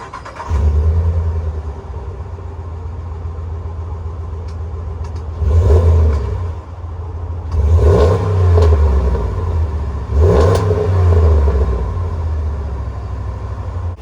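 A 5.7-liter Hemi V8 in a Ram 1500 Limited pickup starts and idles with a steady low rumble, then revs hard three times in quick bursts before settling back to idle.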